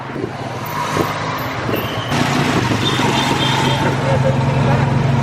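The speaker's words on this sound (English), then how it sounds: "Right, back on a tuk-tuk." Tuk-tuk auto rickshaw engine droning steadily while riding through Phnom Penh streets, a continuous close motor hum that grows slightly louder partway through, with a voice talking over it.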